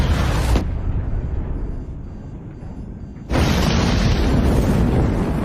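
A deep, rumbling explosion in a film, damaging a train carriage coupling, roars loudly, fades into a lower rumble, then a second heavy blast of noise surges back and sustains.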